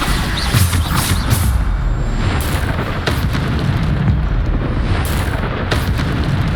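Bombarda spell blasts in the video game Hogwarts Legacy, loud booming explosions layered over dense continuous battle noise, with sharper bursts recurring every second or so and no talk.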